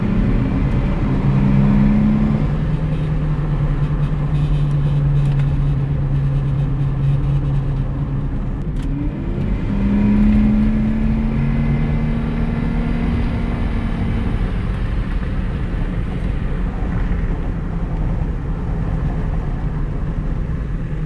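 A Nissan Maxima 3.5 fitted with a K&N cold air intake drones in a steady, low engine hum, swelling briefly in a mild rev midway before settling back to an even idle.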